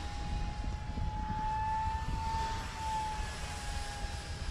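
A 3D printed 50mm EDF model of a J10 jet plane flies past with a steady, loud ducted-fan whine that rises slightly in pitch and holds, with wind rumble underneath and no talking.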